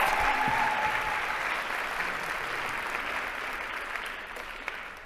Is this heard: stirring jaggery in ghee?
no